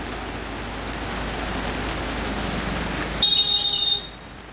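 Heavy rain pours down in a steady, dense hiss for several seconds, then a high electronic beep cuts in briefly over it before the sound drops away.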